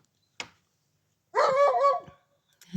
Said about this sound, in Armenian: Շունիկն էլ հաչում է